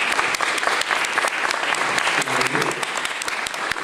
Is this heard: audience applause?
yes